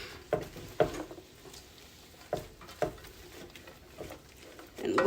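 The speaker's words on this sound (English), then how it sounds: "I'm going to turn this up and get these all stir fried down." Vegetables stir-fry in a pan for a Chinese veggie stir fry, with quiet sizzling broken by several sharp scraping, tossing strokes at irregular intervals, near and fairly soft.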